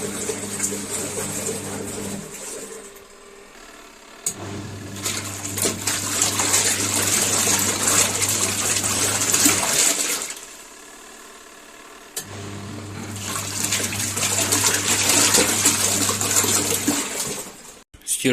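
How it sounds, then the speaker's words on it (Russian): A small mini washing machine churns water as its drum turns back and forth, with bursts of sloshing and motor hum that stop and restart in alternating cycles. "Машинка крутится туда-сюда."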